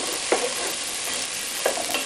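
Tomato sizzling with browned onion and garlic in a pan, a steady close hiss broken by two brief stirring scrapes; no voices.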